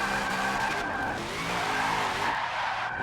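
Car in Forza Motorsport 7 skidding and spinning out, tires squealing loudly and continuously over engine roar as the loosened car loses grip, close and sustained for the whole span.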